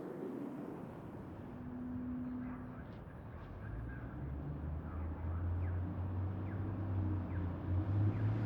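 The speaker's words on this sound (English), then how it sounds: "And the cars on the road in front." Steady city road traffic passing in front with flags flapping in the wind nearby, a continuous low engine rumble that swells gradually as vehicles draw closer, with no voices.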